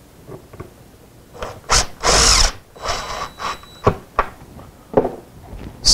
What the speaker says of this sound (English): I'm going to mount this on the wall using a couple of drywall screws.